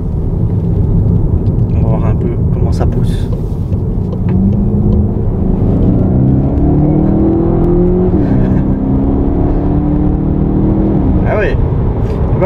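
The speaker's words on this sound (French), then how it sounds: "quand on passe en mode GTE, le son est déjà un petit peu plus sympa." A 2017 Volkswagen Golf GTE plug-in hybrid accelerates in GTE mode, its engine note climbing steadily through a couple of rising sweeps, heard from inside the cabin over a constant road hum with someone talking.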